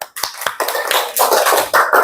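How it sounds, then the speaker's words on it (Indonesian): Students in a classroom break into applause, a short burst of quick, sharp hand claps that starts with a few separate taps and thickens into dense, close clapping. "tepuk tangan"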